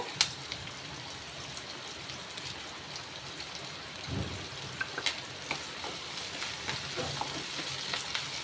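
Garlic and onion sauté in oil with pepper and curry leaves, giving a steady soft sizzle and crackle with occasional stirring scrapes and pops throughout, with no talking.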